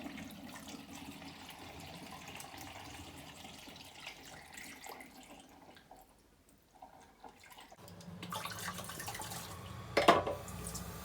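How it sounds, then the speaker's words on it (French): Tap water running while bottles are rinsed one by one in a kitchen sink, a soft steady splashing flow, pausing briefly before resuming with a small clink. "il va falloir rincer un par un toutes les bouteilles"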